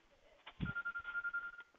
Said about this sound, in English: Sorry, I forgot to turn my phone off.